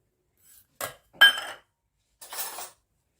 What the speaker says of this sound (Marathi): आधी चमच्याने व्यवस्थित मिक्स करून घेऊया